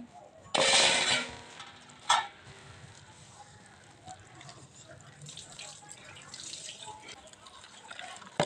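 Water splashes in a strong pour at the start, then a short second splash, followed by quiet wet mixing sounds of batter for Mysore bajji, with a voice speaking and a faint background noise.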